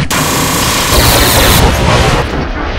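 An ion blast weapon fires in a video game, a loud dense roar of continuous gunfire that fills the whole moment, harsh and close, fading slightly at the end.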